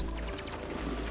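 Water gushes in a steady rushing pour from a broken dam in the video game Oxygen Not Included, a continuous low roar that holds level for about a second.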